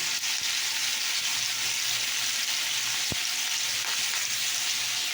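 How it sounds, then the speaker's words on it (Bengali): Oil heating in a pan gives off a loud, steady sizzle with a bright hiss throughout and one brief tap partway through, close by and with no voices. "তো দেখো তেলটা দিয়ে দিচ্ছি, গরম করে দেবো।"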